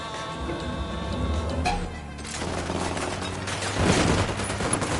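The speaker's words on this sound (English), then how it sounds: "I'm opening fire." Gunfire in a PS4 video game comes as a dense, steady stream of combat noise with buzzing tones and intermittent shots, fairly muted beneath a busy game soundtrack.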